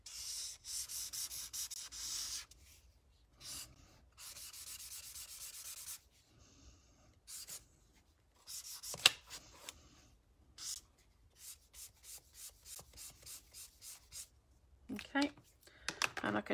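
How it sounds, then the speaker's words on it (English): Broad-nib marker colouring in green on the back of shrink plastic, scratchy rubbing strokes in repeated bursts with short pauses, close and fairly quiet, alternating with a voice speaking. "Colour it all in green on the back here."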